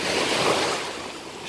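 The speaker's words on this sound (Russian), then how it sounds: "Шум прибоя." Morning sea surf rolling onto the beach at Vityazevo, Anapa: a broad, continuous roar of breaking waves with some wind buffeting the microphone, swelling then easing slightly over a moment.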